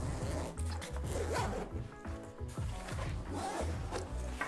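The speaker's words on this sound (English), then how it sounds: "We've got a chunky YKK zip here." A chunky YKK zipper on a Bellroy Flight Bag is pulled open around the main compartment, a close, continuous rasping run of small ticks lasting several seconds, with no speech.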